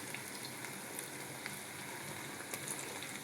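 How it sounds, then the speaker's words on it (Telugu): Cabbage Manchurian balls frying in oil, a quiet, steady bubbling sizzle with tiny crackles scattered through it and no talking. "ఇదండి, వేగుతూ ఉన్నాయి చూడండి, ఇంకా వేగలేదు."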